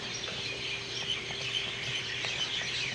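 Birds chirp and tweet at a resort on Oahu near fresh water, with scattered small calls that sit fairly distant over a steady outdoor hiss and faint insect-like buzz, and no one speaks.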